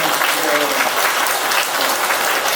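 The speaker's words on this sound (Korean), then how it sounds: "박수 합시다. 박수." A church congregation applauds during a sermon, a loud, continuous wash of clapping with a voice briefly over it at the start.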